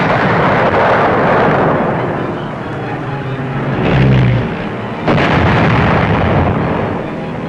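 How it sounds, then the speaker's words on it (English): Bombs strike old German battleships in aerial precision-bombing tests, heard as heavy booming blasts and rumbling roars that swell and fade, loud and close, with a narrator's voice over parts. "Using some old German battleships as targets, Billy Mitchell showed what precision bombing could do."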